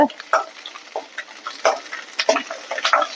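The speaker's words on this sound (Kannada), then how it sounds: "ಎಣ್ಣೆ ಹಾಕೋಬೇಕು ನೀಟಾಗಿ ಹುರ್ಕೋಬೇಕು" Brinjal pieces fry in oil in a pan for a stir-fry, giving a crackling sizzle with sharp scraping stirs and clinks at irregular moments, close and fairly loud.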